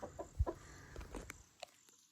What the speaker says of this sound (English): Let's take a look at my chickens. I have 10 hens and 2 roosters.